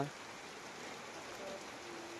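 Rain falls at night in Kerala, a soft continuous hiss of drops steady and fairly faint throughout, with no voices.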